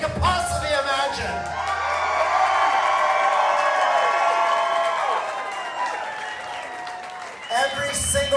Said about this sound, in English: I want you to give this committee the loudest round of applause you can possibly imagine